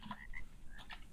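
Toads croak in a handful of short, throaty bursts, fairly close, over a low steady background hum, in the video game ARK: Survival Evolved.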